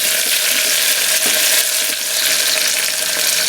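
Onions with green chilli pieces and curry leaves frying in hot oil, a loud steady close sizzle with occasional stirring scrapes and no voices.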